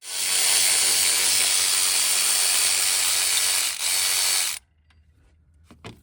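A tool spins out an alternator mounting bolt on a 2012–2017 Toyota Camry: a loud, continuous mechanical whir lasts about four seconds with one short break, then stops. Only faint clicks and handling noises follow.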